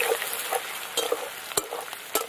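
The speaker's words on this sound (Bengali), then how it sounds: "পেঁয়াজটা হালকা একটু ভেজে নেবো।" Chopped onion with garlic and dried chilies fries lightly in a pan for Chinese-style egg fried rice, a bright steady sizzle punctuated by several sharp scraping strokes of the spatula.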